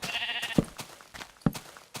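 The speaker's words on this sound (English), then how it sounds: "Punching sheep to get their wool kind of feels sadistic" Sheep in Minecraft bleat twice in quick succession, short clear close calls over a faint game background, with no speech.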